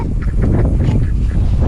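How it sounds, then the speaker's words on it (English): Ducks at a pond honking and quacking in a quick, overlapping cluster, loud and close, with no talking over them. "We made it to the ducks."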